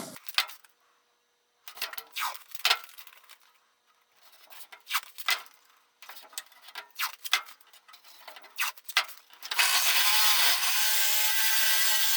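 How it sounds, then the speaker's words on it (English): A jigsaw cutting an aluminum race cabinet panel comes in short, rapid buzzing bursts separated by pauses, then ends in a sustained loud whirring stretch, close and with no talk. "we're cutting it out with a jigsaw"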